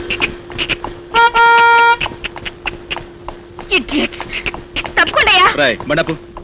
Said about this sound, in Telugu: హార్న్ మోగుతుంటే వినపడలేదు